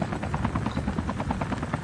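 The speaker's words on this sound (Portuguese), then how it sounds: "Nossa, eles estão destruindo o helicóptero, velho." Helicopter in Call of Duty Mobile, steady rapid rotor chop throbbing loud and close throughout, with no talk over it.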